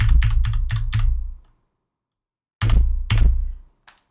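Keys clatter on a computer keyboard while editing text in Vim on a UNIX server, a quick burst of about eight close, loud strokes, a pause of silence, then several more rapid taps and one last light click.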